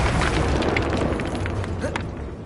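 A booming fiery burst from the Incendio spell in a magic-school game, loud at the start and rumbling with crackle before slowly fading out.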